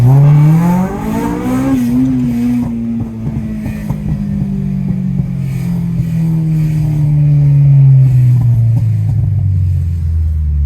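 Honda Civic Type R EP3 engine revving loud and close, pitch sweeping upward then holding and slowly falling as the car pulls through the gears, a steady continuous drone with no talking.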